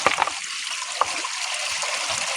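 Water trickles and gurgles steadily in a stream, a continuous close wash of flowing sound with a few small splashes and no talking.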